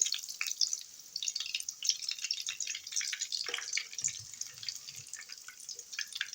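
Hot oil is poured over Korean-style grated carrot salad, producing a crackling sizzle of small pops and drips that runs unevenly for several seconds.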